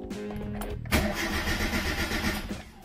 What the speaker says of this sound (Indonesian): Ini kita starter. Nggak mau hidup.